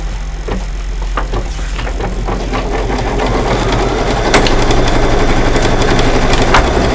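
A home sewing machine runs a tack-down stitch over project batting with a loud, rapid and steady mechanical whir. The motor hums evenly throughout, close to the microphone.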